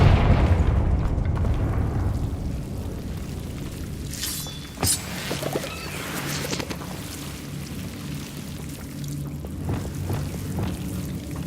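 A Confringo explosion spell from the video game Hogwarts Legacy: a rumbling blast that fades into a low roar, followed by a sharp crackling burst and lingering ambient rumble.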